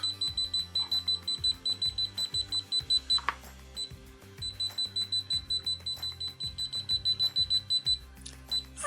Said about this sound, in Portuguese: high, um bip mais rápido